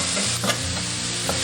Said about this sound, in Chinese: 油热以后下入料头炒香